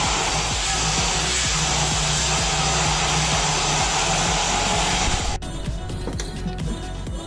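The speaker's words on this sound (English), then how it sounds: "Just cutting up the mounting bracket for the shifter to bolt to." Metal mounting bracket for a TR6060 gearbox shifter being cut with a power tool, giving a loud, continuous, harsh grinding roar that cuts off abruptly near the end, leaving quieter workshop clatter.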